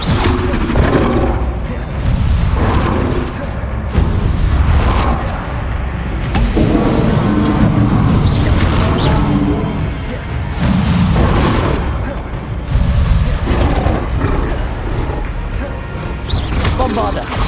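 Spell explosions from Bombarda and Confringo in the video game Hogwarts Legacy: a steady run of heavy, loud booms and crashing bursts with short dips between, and voices sounding over the blasts.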